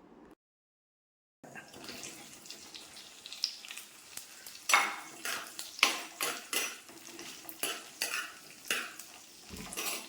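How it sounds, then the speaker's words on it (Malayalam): Okra sautés in a pan while being stirred for an okra curry with coconut milk: a soft sizzle under a run of scraping and clinking spatula strokes, quiet and close, starting after a brief silence, with no talking. "ഇതിലേക്ക് നമുക്ക് ആദ്യം നമ്മുടെ ഈ വെണ്ടയ്ക്ക ഇട്ട് അങ്ങ് മൂപ്പിക്കാം"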